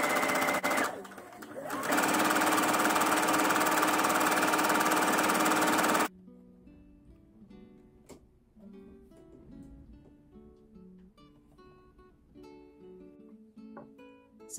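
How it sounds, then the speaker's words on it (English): A sewing machine hemming fabric with a hemming foot, a fast steady mechanical whir running loud and close for a few seconds, then stopping and leaving quieter background sounds. "So that's how the hemming foot works when you see it under the machine"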